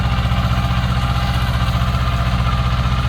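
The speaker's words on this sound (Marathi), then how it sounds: "एकदम जबरदस्त चालतोय ट्रॅक्टर" A tractor harrowing moist soil in a farm field runs loud and close, a steady low throbbing drone with even pulsing and no pauses.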